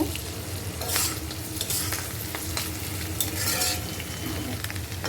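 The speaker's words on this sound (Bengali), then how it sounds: "পেঁয়াজটা আগে একটু ভেজে নেব" Onions lightly frying in a pan for a village-style bottle gourd chicken curry: a dense, loud, continuous sizzle with frequent spatula stirring scrapes and clinks throughout, with no voices.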